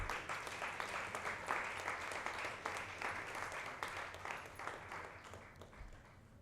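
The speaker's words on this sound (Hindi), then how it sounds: "तालियां रुकनी नहीं चाहिए।" Clapping continues at an awards show as a crowd keeps cheering an arriving guest. It is steady and full-bodied at first, then gradually thins and softens over several seconds.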